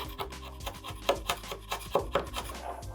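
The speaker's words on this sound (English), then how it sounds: "you can just scrape it off with a scraper" A scraper peeling excess unprepped fibreglass filler off a car bumper, several close, short rasping scrapes in an uneven rhythm, with no talking.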